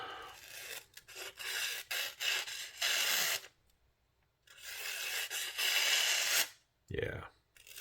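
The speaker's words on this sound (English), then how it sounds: "I want to sharpen that knife" Sencut Citius pocket knife blade drawn across a sharpening stone in repeated raspy strokes, two bursts of rhythmic scraping separated by a short pause, close and clear.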